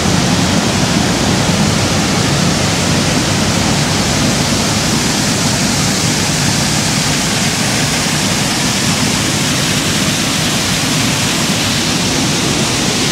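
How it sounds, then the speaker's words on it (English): A waterfall at Ricketts Glen State Park roars in a steady, loud, unbroken wash of rushing water heard from the top of the falls, with no voices over it. "because now I'm at the top of the waterfall"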